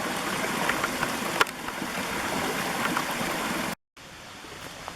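Creek water flowing steadily through woods near an abandoned village, a dense continuous rush close by with no talk, briefly cut off near the end before resuming.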